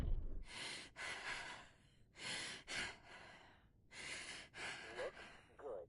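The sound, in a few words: character breathing sounds in video game Quarantine Zone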